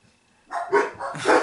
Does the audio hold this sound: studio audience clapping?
no